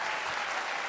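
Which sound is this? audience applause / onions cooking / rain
audience applause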